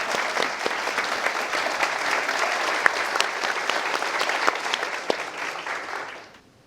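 A theatre audience gives a standing ovation for Bibi, steady dense clapping holding for several seconds before fading out at the end.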